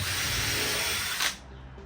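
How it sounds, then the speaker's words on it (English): A power drill whirs steadily at close range, pre-drilling screw holes in wood for a staircase for over a second before winding down to a stop. "So we just pre-drill these holes."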